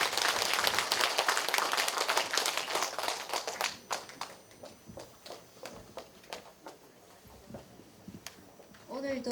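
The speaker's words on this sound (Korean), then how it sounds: "다시 한번 큰 박수 부탁드립니다" An audience at the end of a lecture breaks into dense applause that thins out after about four seconds into scattered separate claps, then a voice begins speaking.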